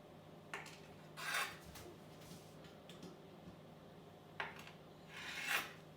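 A knife cuts into a chocolate cake in a few soft, scraping strokes, quiet and close, separated by near-silent pauses.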